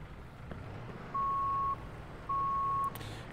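An ambulance moving off in the Notruf 112 video game: two steady electronic beeps of even length over a low vehicle rumble, fairly quiet, with no talk.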